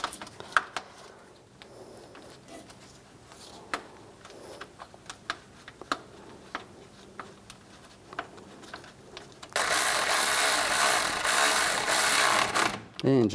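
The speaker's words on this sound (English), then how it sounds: "then we'll tighten those down." Ratchet clicking while tightening the bolts on a 1997-2001 Honda CR-V radiator cooling fan assembly, a series of close, irregular sharp ticks, then a loud steady burst of broadband noise near the end.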